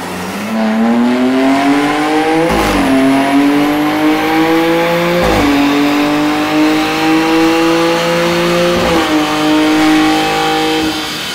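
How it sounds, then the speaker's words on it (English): A BMW M4 engine revs hard on a dyno, its steady loud tone climbing through each gear, then dropping sharply at three shifts before pulling up again. "BMW M4."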